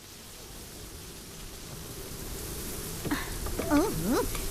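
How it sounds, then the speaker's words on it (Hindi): Strong wind blowing at night before rain, a dense roaring rush that builds gradually, with a person speaking briefly over it near the end. "कितनी तेज हवा चल रही है,"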